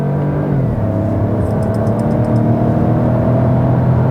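A DS 3 PureTech car engine holds a steady, loud drone and climbs in pitch as it revs toward its 6,000 RPM redline while accelerating, with no voices.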